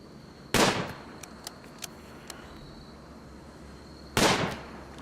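Two sharp gunshots from RimWorld colonists shooting at an animal, spaced a few seconds apart, each a loud crack with a short tail, and faint ticking clicks between them.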